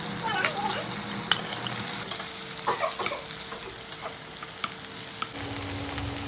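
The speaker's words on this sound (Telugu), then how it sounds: "కొంచెం సేపు ఫ్రై అవ్వనిచ్చేసి నెక్స్ట్ బెండకాయ ఫ్రై కోసం బెండకాయలో చిల్లీస్ వేసేసాము" Okra with green chillies frying in a pan, a steady close hiss of sizzling oil broken by scattered crackles and occasional spoon scrapes, continuous throughout.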